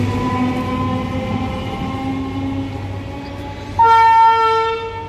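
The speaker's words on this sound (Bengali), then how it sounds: "এই ইঞ্জিনটা হর্ন দিল" A train rumbles past at a station, then a loud, sustained locomotive horn blasts near the end.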